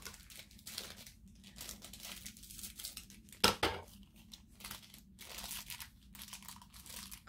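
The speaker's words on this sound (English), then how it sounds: "I didn't cut the bag enough" Plastic bag holding a collectible hot cocoa enamel pin being cut open and crinkled, with close, repeated rustling and crackling throughout and one sharper, louder crunch partway through.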